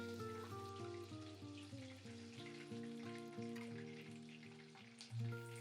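Tempura shrimp fritters fry in hot oil with a steady, fine crackling sizzle, partly masked by louder melodic background music throughout.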